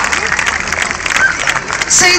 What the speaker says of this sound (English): Big round of applause for Santa's little helper.